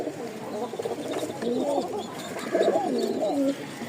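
A kokka pigeon coos in a run of soft, rolling burbling phrases, several calls in quick succession, close but fairly quiet against a low background hum.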